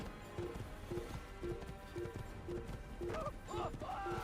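A horse in a video game gallops with steady, evenly spaced clip-clop hoofbeats, joined near the end by a short whinny-like tonal cry.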